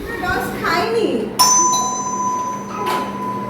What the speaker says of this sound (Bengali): ভাবতে ভাবতে হঠাৎ কলিং বেল বেজে উঠলো